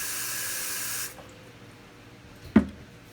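Water hisses steadily from a tap into a Nutribullet blender cup for about a second, then stops, followed by a single sharp clunk.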